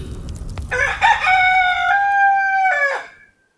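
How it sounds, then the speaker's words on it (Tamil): A single loud rooster crow, close by, rising and holding before trailing off, with no other sounds around it. "உடனே சேவல் கூவிற்று"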